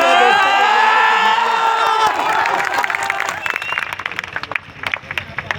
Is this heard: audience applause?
yes